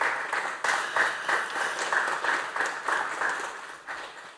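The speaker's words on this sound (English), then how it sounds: "Will everybody give a round of applause to our wonderful panel?" An audience applauds a panel at an energy supply chain and manufacturing discussion, a steady wash of many hands clapping together in rolling bursts, moderately loud and without speech.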